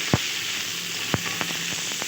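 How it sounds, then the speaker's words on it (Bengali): Fried papaya pieces stirred and sautéed in a pan for a Bengali papaya-and-liver chorchori, a steady soft sizzle broken by a few sharp spoon scrapes and clacks. "এবার আমি এর মধ্যে দিয়ে দিচ্ছি ভেজে রাখা পেঁপে, দিয়ে আরও কিছুক্ষণ নেড়ে চেড়ে আমি কষিয়ে নেব।"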